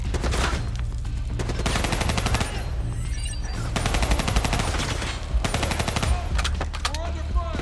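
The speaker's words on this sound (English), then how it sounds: "We're under fire!" Video game gunfire, dense bursts of rapid machine-gun shots and rattling automatic fire in repeated volleys, loud and close, with brief gaps between bursts.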